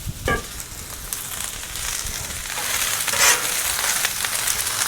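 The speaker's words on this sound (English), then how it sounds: "Those are hot. I can hear them sizzling away." Onions sizzle steadily on a hot Blackstone griddle, a dense crackling hiss that grows a little louder partway through, with a brief clatter near the start.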